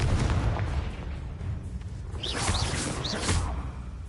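A Confringo blasting spell goes off in the video game Hogwarts Legacy, a loud booming burst over a dense rumbling battle din, with a few whooshing bright effects near the end.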